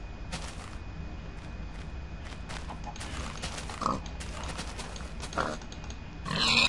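Pigs in the Minecraft video game oink in short scattered grunts, moderately near, over quiet game background with soft footsteps.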